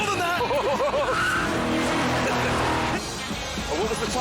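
A car corners hard on a track, its engine wailing in wavering pitch with tire squeal and skidding, loud and continuous, easing slightly toward the end while people talk over it.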